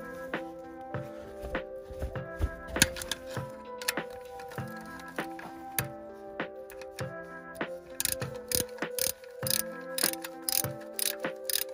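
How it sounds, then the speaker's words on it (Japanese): A ratchet wrench clicks in quick bursts while undoing a car's support nut during an ignition coil replacement, the rapid ratcheting repeated close up with short metallic knocks between runs and no talk. "サポートのナット外します。"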